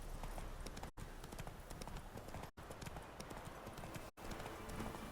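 Roach the horse trots along in The Witcher 3, a steady continuous clip-clop of hooves, close and prominent throughout with brief dropouts.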